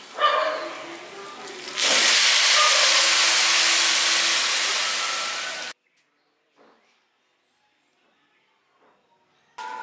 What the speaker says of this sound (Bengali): এবার এর মধ্যে আমি জল দিয়ে দিচ্ছি।